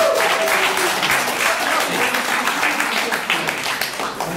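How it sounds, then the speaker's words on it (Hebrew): An audience at an improv theatre show applauds, a dense, loud wash of clapping that carries steadily from start to finish, with a voice faintly mixed in beneath it. "נהדר, תודה רבה, למחוא כפיים לכם"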